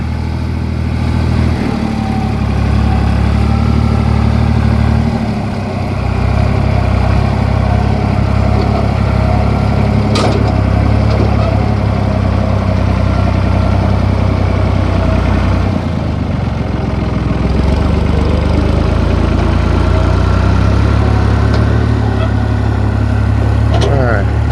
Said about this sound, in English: And here comes Jeffrey with the tractor